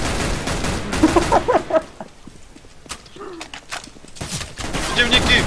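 Bursts of rifle fire in CS:GO, a sniper rifle among them, crackling in quick volleys that fade out and then return, loud and close, with a voice talking over parts of it.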